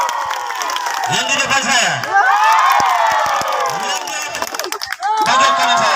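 Crowd at a village head candidate's vision-and-mission presentation in Tasinifu clapping and cheering loudly in bursts, with shouts and someone talking over the noise throughout.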